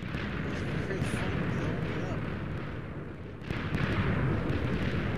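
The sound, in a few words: TNT explosions in a video game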